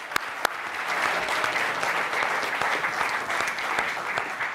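An audience at a California statewide hearing applauds a panel, a dense, steady round of clapping sustained throughout after a couple of sharp opening claps.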